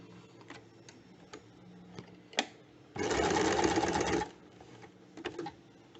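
A sewing machine stitches a folded cushion cover in one loud, steady burst of rapid mechanical running lasting just over a second, with quieter clicks and handling sounds before and after.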